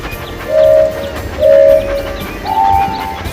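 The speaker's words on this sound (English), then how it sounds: "Swipe left or right to keep the train on the tracks." A mobile video game train runs on its tracks with a steady synthetic rumble, broken by three loud horn toots, two of them longer blasts, all close and clear.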